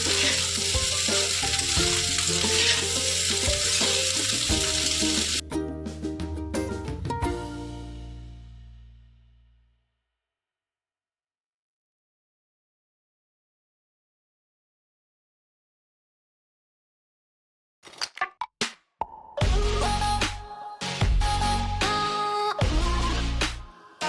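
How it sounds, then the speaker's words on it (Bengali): Loud sizzling and scraping of fried rice being stirred in a hot pan over a gas flame, fading into silence, then returning with clattering stirring strokes near the end. "এবারে গ্যাসের ফ্লেমটা একটু লো করে নাড়তে থাকবেন"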